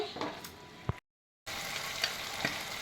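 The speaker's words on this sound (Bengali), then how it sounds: "দেখো আমি কাজু বাটাটা দিয়ে দিচ্ছি কাজু আর কয়েকটা কিশমিশ ছিল বাটাটা দিয়ে দিলাম দিয়ে এবার ভালো করে একটু কষিয়ে নেব" Cashew and raisin paste sautéing in a pan, a steady soft sizzle with faint stirring scrapes, briefly cut out before resuming.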